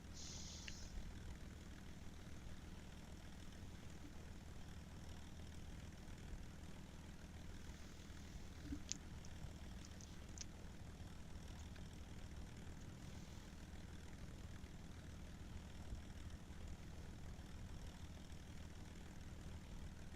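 A steady propeller plane engine drones on in Kerbal Space Program, a constant low hum that holds evenly throughout with a few faint clicks over it.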